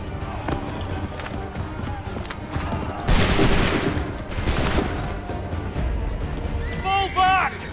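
Volley of musket fire in Assassin's Creed III, a loud crackling burst of shots erupting together, then a second smaller burst, amid battlefield bustle, galloping hooves and shouted voices.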